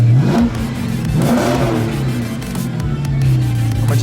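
A car engine idles loudly up close as it warms up and revs a few times, its low hum rising and falling in steady pulses; the car has a 392 engine with straight pipes.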